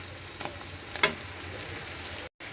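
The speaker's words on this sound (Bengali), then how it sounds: "পেঁয়াজটা তেজপাতাটা কিছুক্ষণ ভেজে নিয়েছি" Chopped onion and bay leaves frying in hot oil in a home kitchen pan, a steady soft sizzle throughout with a brief crackling burst partway through, fairly quiet and with no talking.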